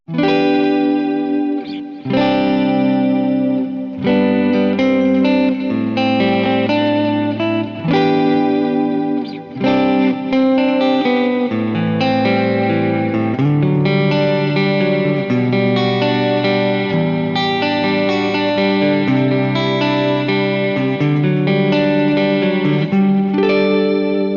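Gretsch electric guitar in the neck pickup position, chords and melody washed in stereo delay and reverb, with shimmering chorus-like repeats, played continuously and alone.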